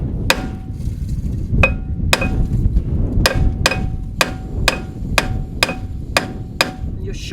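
Sharp metallic hammer strikes on a rusty brake disc seized to the hub of a Mk1 Ford Focus ST170, about a dozen spaced blows ringing out close and loud, with no talk.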